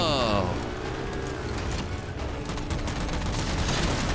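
Halo 4 video game combat with gunfire and quad missiles: steady loud barrage of shots, blasts and vehicle rumble layered with game effects, continuous across the clip.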